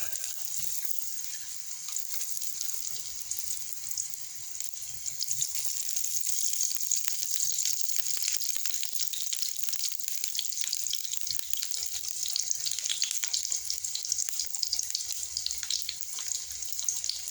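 Split bananas frying in oil in a pan, with a steady, bright sizzle and crackle running continuously at moderate level throughout, no voices.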